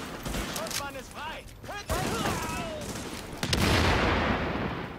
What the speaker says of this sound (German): Wir werden beschossen!